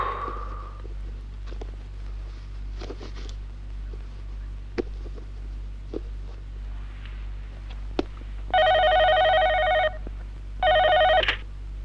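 A telephone rings late at night in two separate bursts, each a steady electronic trill lasting about a second, heard close by over a low background hum with a few faint knocks between.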